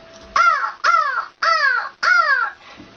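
A woman imitates a crow with four loud, harsh caws in an even rhythm, each call close and clear with short pauses between.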